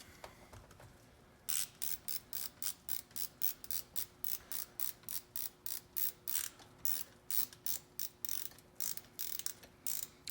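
A hand ratchet tightening the steering wheel bolt on a 5th-gen Toyota 4Runner: a quick, steady run of crisp, close clicks after a short quiet lead-in.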